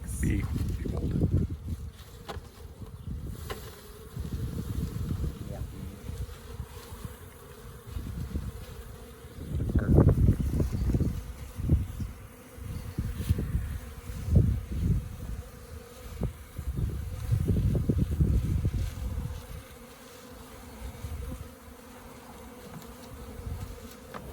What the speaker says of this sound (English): carefully encourage these bees to come down into the box